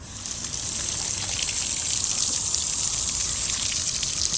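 Water gushes and splashes as it is poured into dry garden furrows for radish planting, a steady close rushing hiss that starts quietly and holds, with no one speaking.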